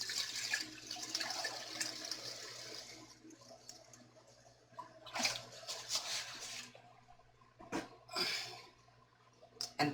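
Four cups of white vinegar pour into a pan for a dill pickle brine, a continuous splashing liquid stream with uneven gushes and drips.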